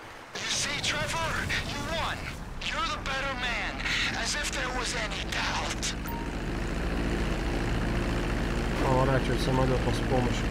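Propeller airplane engine in Grand Theft Auto V, a steady droning hum that rises toward the end, with someone talking loudly over it for much of the time.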